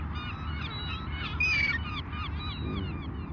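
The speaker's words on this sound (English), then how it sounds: "Yeah, they are seagulls." Seagulls call over a beach at Yanbu, with several harsh, cawing cries overlapping against steady low wind and surf rumble.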